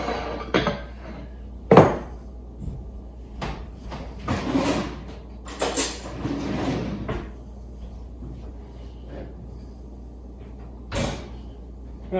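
Kitchen clatter as a chef places a hot pan into an oven: a sharp metallic clank near two seconds, then scattered knocks and rattles of oven door and cookware, loud and close, fading into quiet.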